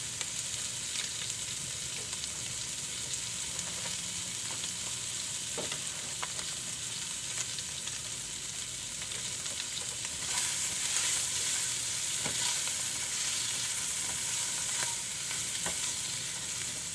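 Breakfast taco filling frying in a pan gives a steady, close sizzle throughout, broken now and then by soft scraping and clicking from stirring, with no talking.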